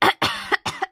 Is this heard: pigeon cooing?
no